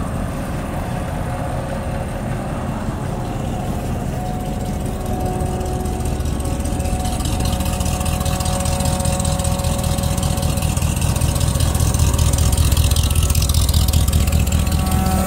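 A White 5542 tractor engine idling steadily up close with a loud electric fuel pump whining constantly on top, the engine growing slightly louder toward the end.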